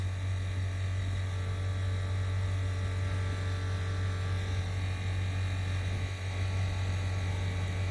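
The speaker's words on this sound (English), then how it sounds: "setting up our air compressor and airing up our tires" An air compressor runs steadily to air up vehicle tires after beach driving, a loud, unbroken motor hum and buzz close by with no pauses.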